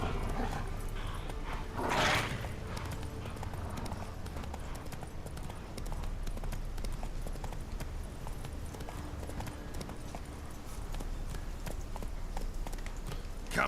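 Roach the horse's hooves in The Witcher 3, a steady clip-clop of hoofbeats running throughout at moderate loudness, with a brief louder burst of noise near the start.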